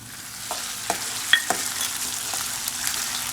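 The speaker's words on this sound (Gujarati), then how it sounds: "ડુંગળી નાખવાની, પછી એના પર લીલા મરચાં નાખી દેવાના" Onion and green chilies fry in a pan with a steady, close sizzle, while a utensil gives several short scraping taps against the metal. No voices are heard.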